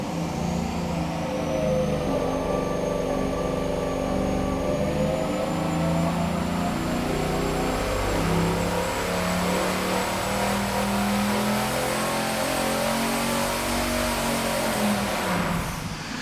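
Turbocharged engine on a dyno holding a loud, continuous high-rpm roar under boost, with a rising turbo whine riding over the engine note throughout.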